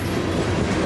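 A Monroe coal train led by BNSF locomotives rolls past, a loud, continuous rumble and rail clatter heard close, with no voices.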